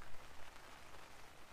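Rain falls steadily outdoors at a winter carp-fishing lake, a faint, even hiss of drops on surfaces with no one speaking.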